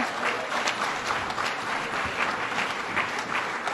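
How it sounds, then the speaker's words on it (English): An awards-event audience breaks into applause for a county chair receiving a Senate proclamation, a dense, even patter of many hands filling the room for a few seconds. "Give him applause."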